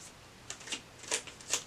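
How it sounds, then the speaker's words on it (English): A deck of playing cards being shuffled by hand, heard as a few quick, soft riffling bursts spaced apart, faint and close with no talking. "I like to shuffle it 3 times"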